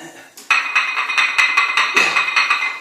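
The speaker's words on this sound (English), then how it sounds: "That noise is my china plate on the floor." China plate rattling and clinking against a hard floor, a rapid series of bright, ringing metallic-sounding taps close by, repeating in an uneven rhythm for a few seconds.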